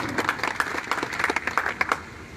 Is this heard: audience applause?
yes